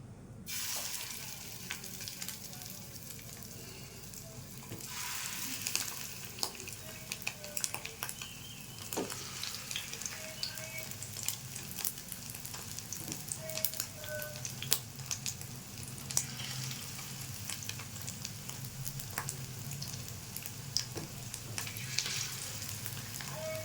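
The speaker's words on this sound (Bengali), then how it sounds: "তেলটা গরম হয়ে গেছে, এবার বড়াগুলো ছেড়ে দিচ্ছি।" Fish roe fritters frying in hot mustard oil, a steady close sizzle and crackle throughout with occasional utensil clinks and stirring, no talk.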